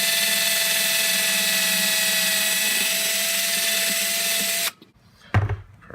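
A power drill whines steadily and loudly while boring into a table, a continuous high mechanical drone that cuts off abruptly near the end, followed by a brief clunk.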